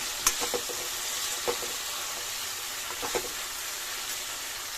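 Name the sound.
tomato and vegetables frying in pan for upma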